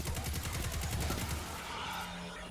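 Gunfire in the shooter game Destiny 2, a burst of rapid shots at moderate loudness that fades after about a second and a half, leaving softer game ambience.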